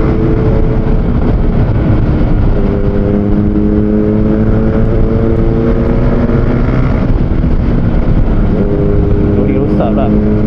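A KTM Duke 390 single-cylinder motorcycle ridden through town, a loud, close engine drone with revs rising and falling, mixed with wind noise throughout.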